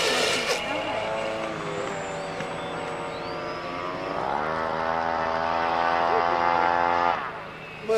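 A propeller airplane flies close overhead, its droning engine note rising and swelling loudly through the middle of the clip, then cutting off near the end.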